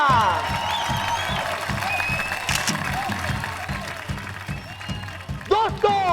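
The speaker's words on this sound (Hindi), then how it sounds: "तालियां।" An audience bursts into applause during a Baalveer fantasy TV show, rhythmic clapping running under a loud, talkative presenter and background music for the whole stretch, rising briefly near the end.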